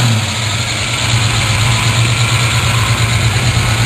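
A 327 V8 rated at 325 hp in an El Camino idles steadily at a muscle car show, a loud, even low rumble with a constant throb throughout and no talking.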